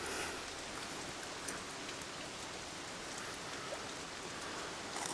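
Steady rain falls on a carp fishing lake by a reef, a dense, even hiss of drops that holds unbroken from start to finish with no voices.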